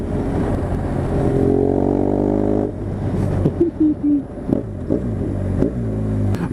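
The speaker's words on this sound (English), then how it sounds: "Oh, I'm so glad to have this sound back. I know it's a boxer engine" A car's boxer engine idles with a steady low rumble, then revs and settles in a few quick throttle blips toward the end, heard close up from inside the car.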